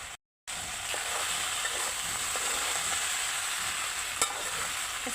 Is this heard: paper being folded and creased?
no